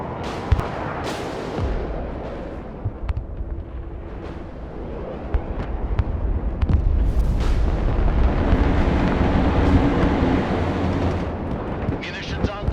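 Air-strike munitions detonate in the war video game Broken Arrow, a run of loud booming blasts and rumbling explosions that build toward a heavy, sustained roar in the later half, with sharp cracks scattered throughout.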